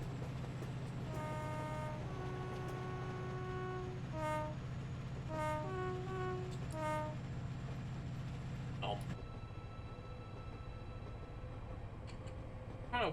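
A Class 68 locomotive in Train Simulator 2020 hums with a steady low engine drone while a multi-tone horn sounds in several short repeated blasts, followed by a shift in the engine's tone.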